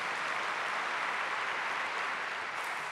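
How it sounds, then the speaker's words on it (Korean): An audience claps steadily to welcome a guest lecturer at a prayer meeting for peaceful reunification, a dense, even wash of applause that holds from start to finish. "여러분 박수로 환영해 주시기 바랍니다."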